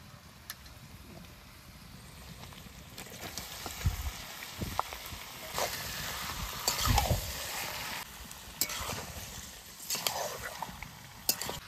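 Marinated meat frying in a pan with lightly fried onions gives a quiet, uneven sizzle broken by stirring scrapes and clatters, close and low in level, with no talking.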